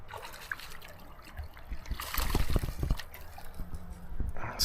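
Water trickles and splashes in a small creek during late-winter fishing, a steady close liquid dribble with a louder burst of splashing midway and no talk.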